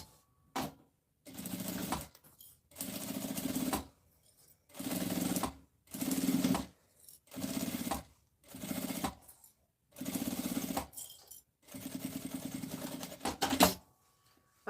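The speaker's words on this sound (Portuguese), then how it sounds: "Uma costura com um pé de máquina reta aqui e aqui do outro" Sewing machine with a straight presser foot running a seam on a box-style toiletry bag, in about eight bursts of steady stitching separated by brief silent pauses, close and alone.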